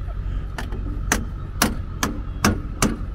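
Hammer blows on a tractor part, six sharp metallic strikes spaced roughly half a second apart, close and loud over a low background rumble.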